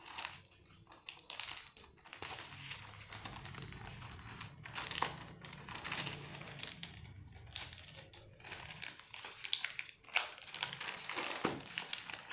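A transparent plastic cover crinkles and crackles as it is folded over the top and bottom of a notebook, close and fairly soft, with continuous irregular rustling and a few sharper creases.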